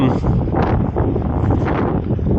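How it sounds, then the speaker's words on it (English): Wind buffets the microphone on a small lobster fishing boat at sea, a loud, continuous rumbling roar with gusty swells and rustling that never lets up. "It's a bit windy."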